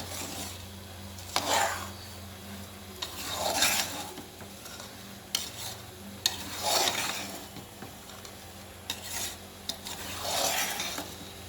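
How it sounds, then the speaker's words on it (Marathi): A spoon stirs rice into frying peas and potato masala in a pan, scraping in repeated strokes every couple of seconds over a soft sizzle, close and moderately loud with no talk. "आता छान तांदूळ यामध्ये मिसळून घेतो."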